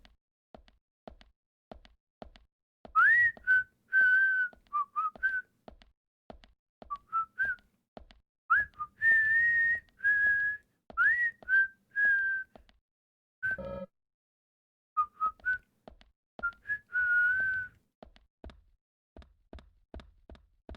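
A person whistles a catchy tune from the video game Deadly Premonition Origins in short melodic phrases, close and clear, over quiet repeated knocks and footstep-like taps from the game.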